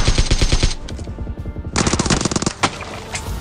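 Loud rapid gunfire in PUBG Mobile, a long fast automatic burst, a short pause with softer shots, then another dense burst and a single trailing shot, close and dominant.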